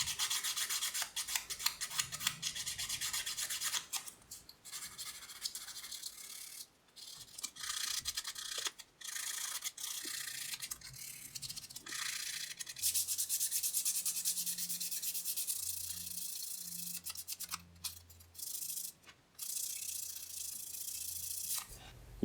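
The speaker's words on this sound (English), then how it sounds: "I like to soften all the sharp edges and corners using 600 grit sandpaper" Edges of a small wooden cross necklace sanded by hand with 600 grit sandpaper, a close, continuous rubbing hiss in quick back-and-forth strokes with brief pauses.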